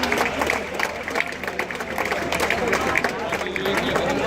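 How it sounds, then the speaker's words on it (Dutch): Audience applause at the Speedbooks Frisian Polo Trophy prize ceremony, a steady dense clatter of many hands mixed with crowd murmur, sustained and fairly loud throughout. "nog even een heel hartverwarmend applaus voor de Speedbooks Frisian Polo"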